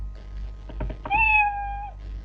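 A single clear cat meow sound effect played in the Scratch programming language, rising then holding a drawn-out tone for almost a second, preceded by a few soft taps over a low steady hum.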